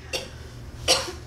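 Two short, breathy coughs close to the listener, separated by a brief pause.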